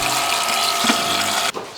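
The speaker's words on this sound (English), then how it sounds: "I'm gonna fill up my washing bucket half with water." Water gushes from a tap into a washing bucket for car washing, a loud steady splashing rush that cuts off abruptly near the end.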